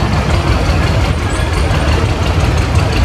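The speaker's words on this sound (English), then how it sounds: "This single front wheel tractor here is a 1961 John Deere 1010" A 1961 John Deere 1010 single front wheel tractor engine in a reunion parade, a steady, loud, low idling rumble with a rough, knocking chug throughout, no talk.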